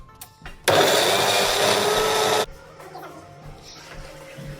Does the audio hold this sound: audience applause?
no